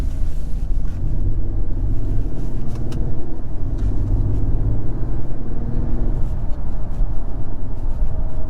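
A 2022 Acura TLX Type S with a 10-speed automatic drives smoothly, its steady low engine and road rumble heard from inside the cabin at an even level throughout, with no talk.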